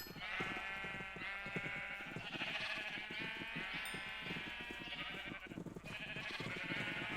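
Minecraft sheep bleating on a farm: repeated wavering bleats overlapping one another in a steady run, close and clear over game background sound, with no talking.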